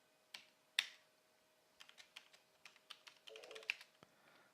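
Quiet, sparse keystrokes as a passphrase is typed on a computer keyboard: a couple of isolated taps, then a quicker run of about a dozen clicks in a near-silent room.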